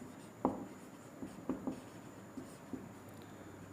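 A pen or chalk scratches across a board during a physics class, making faint, close strokes and taps in an irregular rhythm over a quiet room hum.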